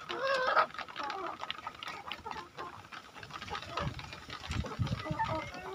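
A flock of chickens clucks and chatters continuously, a busy mix of overlapping calls close by.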